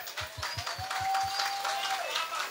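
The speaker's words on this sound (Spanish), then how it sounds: "Hoy quiero que le den ese fuerte aplauso para todas las mamás presentes esta noche aquí." Applause from a live show audience in honour of the mothers present, a soft wash of clapping and crowd noise with a few low thumps at the start and a sustained tone running underneath.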